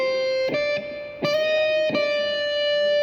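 Distorted electric guitar with gain at about half plays a sustained, vibrato-tinged lead note, broken by three sharp picked attacks about every 0.7 seconds, loud and clear with no talking.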